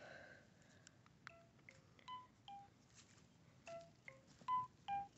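Phone dialing tones played as a string of short, faint beeps at an uneven pace, with a few of them coming close together.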